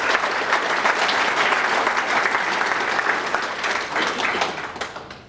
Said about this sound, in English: Let's give a big round of applause for our golf course